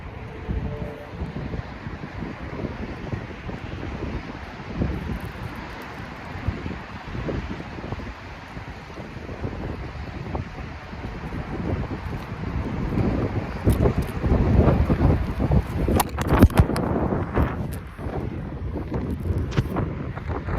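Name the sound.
wind blowing outdoors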